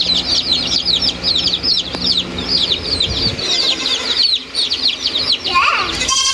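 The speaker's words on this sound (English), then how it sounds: "that's our chicks" Newly arrived meat chicks in a brooder with heat plates peep constantly, a dense, close chorus of high, overlapping cheeps that never pauses, with a few soft rustles beneath.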